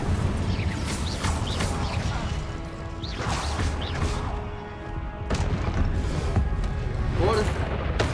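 Fire and blast spells in Hogwarts Legacy, bursts of whooshing crackle and booming impacts repeating every second or two over continuous game noise, loud and close, with a voice speaking between casts.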